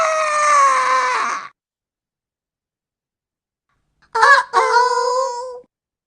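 Startled cartoon chickens squawk in two loud bursts separated by a silent gap, the first a sustained squawk and the second a pair of sharp cries, with no talking.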